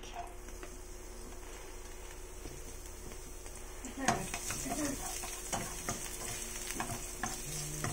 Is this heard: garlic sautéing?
yes